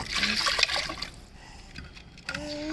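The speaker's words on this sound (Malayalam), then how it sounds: "ഇതിനകത്തോട്ട് കുറച്ച് വെള്ളം" Water is poured into a bowl of salted river fish (pallathy) for washing, a close splashing trickle that pauses briefly and then resumes, with faint voices in the background.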